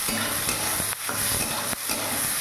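Rice is stirred lightly in hot ghee in a pan, a close, soft sizzle broken by a few scraping stir strokes, each followed by a brief dip in sound.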